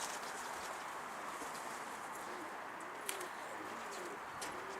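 A pigeon arriving amid soft, distant coos and faint chirps over a steady outdoor hiss, quiet throughout with one brief tap near the middle.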